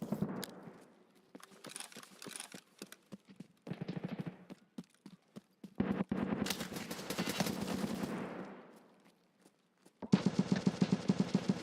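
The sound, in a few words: gunfire from Escape from Tarkov video game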